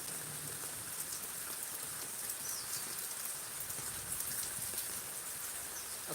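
Steady rain falls in the eastern Miraj area as a soft, even hiss with faint scattered drops throughout, distant and quiet, with no voices.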